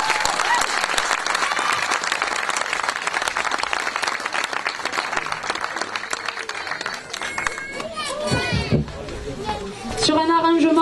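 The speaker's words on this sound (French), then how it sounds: "On peut applaudir Fabien au solo guitare." A rock concert crowd applauds a guitar solo, a loud, dense wash of clapping with cheering. It fades after several seconds as voices and chatter rise, then swells again at the end.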